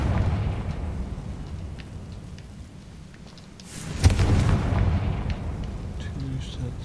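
Confringo fire spell explosion in the video game Hogwarts Legacy: a rumbling blast partway through with a sharp burst, over a steady background of game noise and a voice speaking.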